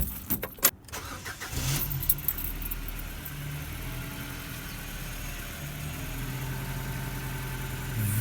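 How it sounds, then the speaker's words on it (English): A Ford Focus MK2 engine, freshly fitted with a new engine mount, cranks after a brief key jangle, catches at about 1.5 seconds, then settles into a steady, smooth, close idle with no voices. "Let's start the engine and see how it behaves."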